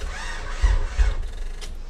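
A JDM H23A VTEC engine in a manual RA1 Honda Odyssey cranks sluggishly on a weak battery, a slow mechanical whirring with a couple of heavy low thumps, close by, without catching.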